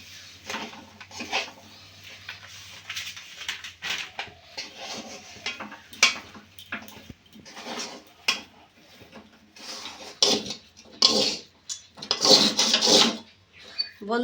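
Dough made from palm pulp and flour stirred in a metal wok (kadai), irregular scraping and knocking of the utensil against the pan in close, uneven bursts, with no talk.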